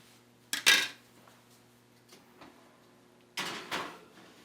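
A granola baking tray is slid between oven racks, giving two short clusters of metallic clatters and scrapes, one early and one near the end, with faint small knocks between them and no talking.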